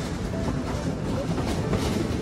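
The Sundarban Express intercity train rolls toward Poradah Junction station with a steady, loud rumble and a low rhythmic clatter of wheels on rails, heard close and continuous.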